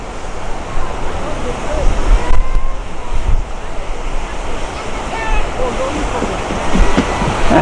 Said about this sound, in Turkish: Yani şelale suyun aşağı düşüşü.